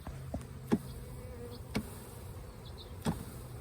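Bees buzz faintly in a new hive box that is tapped three times, each a sharp knock over a low steady hum close by.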